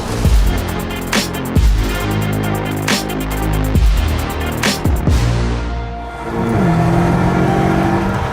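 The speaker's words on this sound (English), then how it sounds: "We're testing the BMW M models here under Arctic conditions." BMW M cars driving on ice in Arctic conditions at minus 35 degrees, engines revving and rising in pitch through repeated accelerations, with tire noise and a vehicle passing close by, loud and continuous without speech.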